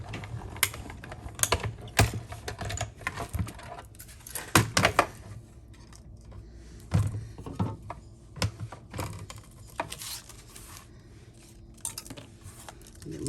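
A Stampin' Cut and Emboss machine is cranked to die cut card pieces under a top cutting plate, making close mechanical clicks, ratcheting rattles and thumps in irregular bursts.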